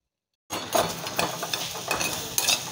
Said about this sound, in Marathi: मसाले एक अर्धा मिनिटभर आपण तेलामध्ये चांगले हे परतून घेतलेले आहेत